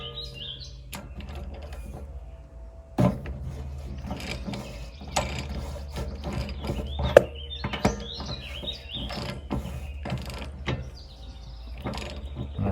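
Socket wrench with a 1 1/16 socket ratcheting on a fitting of a Jayco camper during de-winterizing, giving a run of close, clicking pawl strokes with sharper metallic knocks scattered between them.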